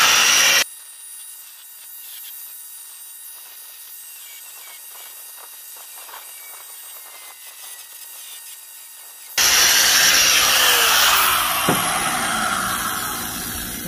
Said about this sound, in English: get these things ground off